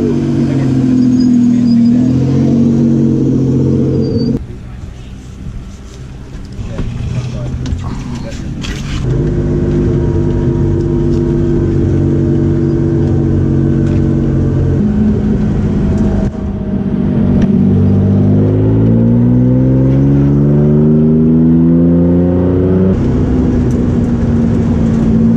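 A clunker endurance race car's engine drones steadily during a practice session, loud and close from inside the car, pitch rising and falling with throttle and shifts.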